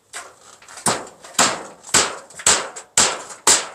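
Nails being hammered, seven sharp, evenly spaced blows about half a second apart, close and loud, each strike ringing briefly before the next.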